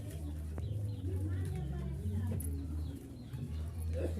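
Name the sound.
pigeons cooing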